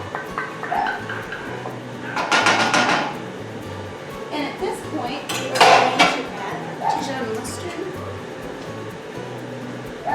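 Strained sauce is poured back into a pan in a home kitchen, with close metallic clinks and scrapes of cookware and utensils in a few bursts over a low steady background.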